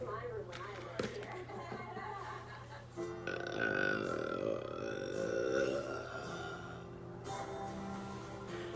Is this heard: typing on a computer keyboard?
no